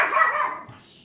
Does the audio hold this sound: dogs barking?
yes